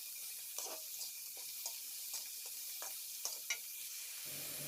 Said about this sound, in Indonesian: Lalu kita masukkan toge atau bahan tambahan lainnya. Kemudian diaduk-aduk rata sampai layu.